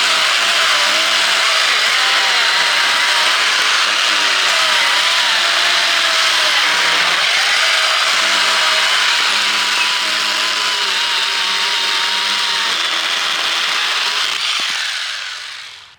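A Ryobi 8-inch compact mini chainsaw cuts through wood in a speed run, its high motor whine loud and sustained for many seconds before it winds down at the end.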